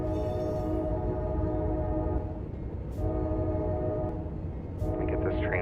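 A train in the Run8 train simulator game rumbles steadily with a sustained, harmonic horn-like drone, then shifts slightly toward the end. Loud and continuous, with no clear voices.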